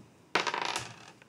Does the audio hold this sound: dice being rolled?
yes